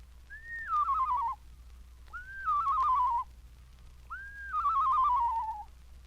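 A man whistles an imitation of a screech owl's song, three separate descending, quavering phrases with short pauses between, clear and close against a quiet background.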